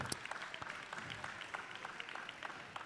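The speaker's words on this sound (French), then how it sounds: "vous pouvez applaudir nos deux équipes" A crowd at a roller derby bout between Switchblade Roller Grrrls of Lille and Missfeet of Le Mans applauding the two teams, faint, steady clapping heard from a distance.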